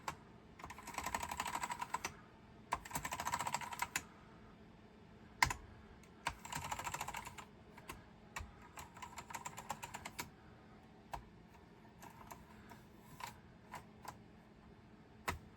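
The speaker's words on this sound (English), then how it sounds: "Test out all the keys." Keys on a vintage computer keyboard are tested in several quick typing bursts, clattery and close, followed by slower single key presses spaced apart in a quiet room.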